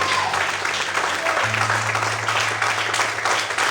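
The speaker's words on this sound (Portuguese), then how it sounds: "Quantos podem aplaudir e adorar a Ele nessa noite?" A church congregation claps in worship during an evening service, a dense, steady wash of applause filling the room, with a low sustained organ or keyboard tone underneath.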